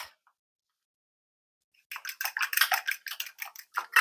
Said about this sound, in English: I'm going to whisk the eggs.